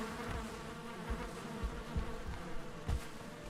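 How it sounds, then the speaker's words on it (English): Beehives in the Valheim video game buzzing steadily: a dense, continuous insect drone at moderate level, even throughout with slight swells, and no talk over it. "Let's check my bees."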